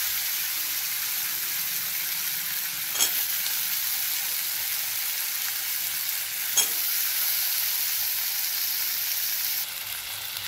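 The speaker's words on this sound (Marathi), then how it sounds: "त्यानंतर आपल्याला हे बटाटे घालायचे आहेत" Potatoes sizzle and fry in hot oil with red chili powder, a continuous bright crackle with two brief louder stirring scrapes, close and unbroken by talk.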